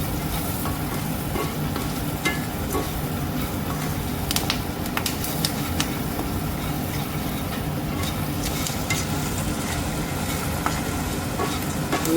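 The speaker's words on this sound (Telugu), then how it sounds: "అందుకని కొంచెం మంచిగా వేయించుకోవాలి కరివేపాకు పచ్చిమిర్చి" Curry leaves and green chillies frying in hot oil for a crispy poha snack, a loud continuous sizzle and crackle close by with occasional stirring scrapes, no talking.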